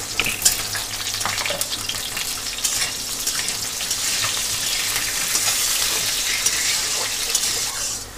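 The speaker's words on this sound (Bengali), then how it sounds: "আলুগুলো এখানে হালকা করে তেলে ভেজে নিয়েছি" Potato pieces frying in hot oil in a pan, giving a loud, continuous sizzling hiss that swells and settles as the pieces are stirred, up close and with no voices.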